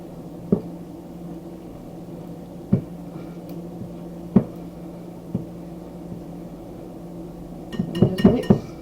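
Chocolate cake batter is stirred by hand in a bowl. Sparse, sharp clinks of a utensil against the bowl sound over a low steady hum, ending in a quick cluster of taps.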